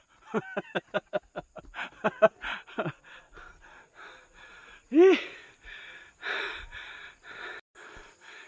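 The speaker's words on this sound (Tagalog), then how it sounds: "magumpisa na akong maghingal-hingal dito guys" A person walking uphill along a trail at Pine Breeze, Malaybalay pants heavily, with quick, close breaths and a few strained, voiced gasps and sighs in an irregular rhythm.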